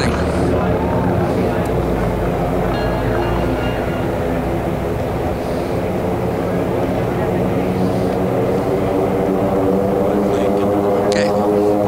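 Several AT-6 propeller airplanes racing around the course at an air race, a steady, loud droning engine roar that holds throughout with a broad rumbling low end and crowd or announcer noise faintly mixed in.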